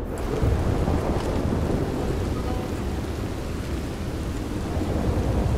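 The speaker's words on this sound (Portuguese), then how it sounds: "Caraca, essa chuva tá alta, hein, mané?" Heavy rain pours steadily in a Red Dead Redemption 2 storm, with deep rolling thunder rumbling throughout, loud and constant with no voices.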